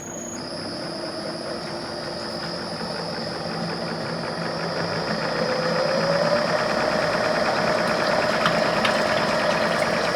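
A PKS-1.75 compressor starts and runs with a steady mechanical drone and a high whine, its loudness building slightly partway through, with no voices.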